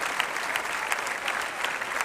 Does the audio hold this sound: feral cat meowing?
no